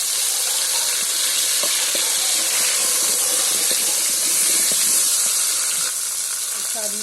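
Green banana pieces frying in oil for a singi fish curry, a dense, even sizzle with occasional spoon stirs and small clinks, close and steady throughout.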